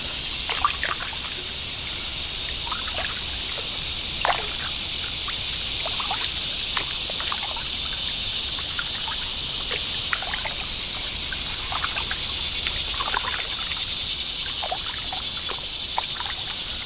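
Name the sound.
kayak paddling through water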